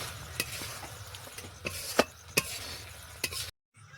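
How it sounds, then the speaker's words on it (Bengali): Kheer being stirred in a pan, with quiet low sizzling and a few sharp spoon scrapes and knocks against the metal before a sudden drop to silence. "এবার একটু নাড়াচাড়া করে এটাকে একটু নাড়াচাড়া করে নামিয়ে নেব"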